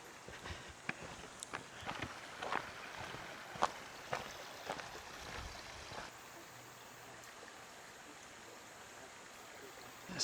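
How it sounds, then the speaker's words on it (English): River in New Zealand flowing past a backcountry track, a soft, steady rushing of water with scattered small knocks and footstep-like sounds nearby early on. "Just arrived at the river."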